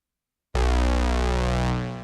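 After half a second of silence, a loud, rich synthesizer chord with sidechain compression bursts in and holds steady, fading slightly at the end.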